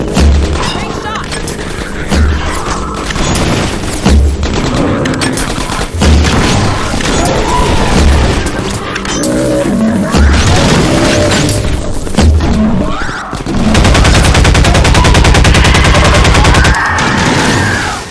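Turret machine gun fire in Half-Life 2: Episode Two, loud and sustained, with heavy booms and rapid bursts, ending in a long continuous stream of fire.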